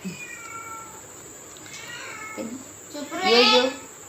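A small kitten meows indoors at home, several thin rising cries spread through the clip, the last one louder and longer, with faint household background noise.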